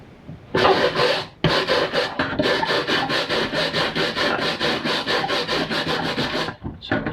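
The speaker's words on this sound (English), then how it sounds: "let's get scrubbing." Vigorous close-up scrubbing strips old material from a Volvo S60's saggy A-pillar trim, fast rasping back-and-forth strokes that run continuously after a brief start and one short break, loud and alone without speech.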